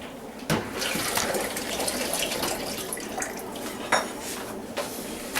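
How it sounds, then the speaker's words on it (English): Boiling water pours and splashes steadily out of a heated flask, with occasional clinks of glass or metal punctuating the continuous flow. "pour out the boiling water from the heated flask."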